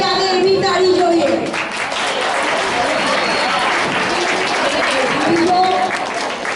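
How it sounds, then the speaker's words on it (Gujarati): Audience applause at a stage program of short plays: dense, steady clapping fills the whole stretch at an even level, with voices heard over it. "એ માટે જોરદાર તાળી થઈ જવી જોઈએ"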